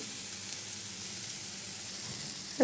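Shredded cabbage roasts in a hot pan for a fried rice dish, a soft steady sizzle and hiss held close and even throughout, with a brief clatter at the very end.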